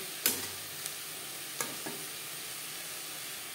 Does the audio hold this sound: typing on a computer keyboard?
no